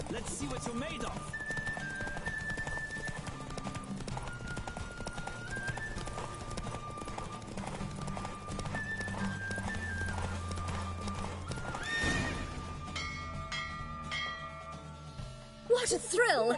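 A horse gallops in a race in the Witcher 3 video game, with steady rapid clip-clop hoofbeats running throughout over background game music and a snort near the end.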